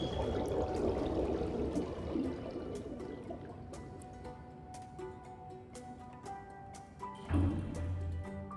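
Water sloshing and trickling through pipes in SimCity, a soft gurgling liquid flow with faint drips, a gentle swell at the start and another near the end, over quiet game background tones.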